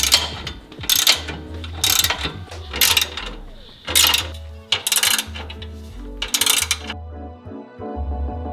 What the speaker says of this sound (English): So now we just need to tighten down our three bolts.